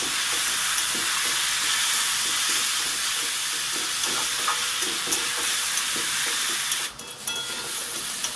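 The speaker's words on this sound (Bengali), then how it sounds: "হলুদ লবণটা ভালো করে মিশিয়ে সুন্দরভাবে ভেজে নিতে হবে।" Beetroot and carrot fry in a pan with a little oil, turmeric and salt, giving a loud, steady hissing sizzle that holds throughout and dips briefly near the end as the pan is stirred.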